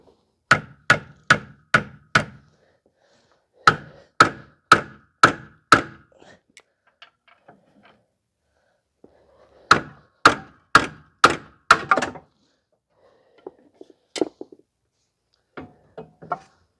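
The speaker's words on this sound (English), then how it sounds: "You may need to use a hammer to hammer against on the pry bar" Sharp metallic hammer strikes on a pry bar while replacing rear shocks on a Honda Odyssey, close and loud, coming in quick bursts of four to six evenly spaced blows with short pauses between.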